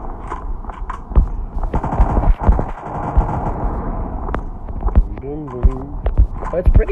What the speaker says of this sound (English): I hear shots coming from over here.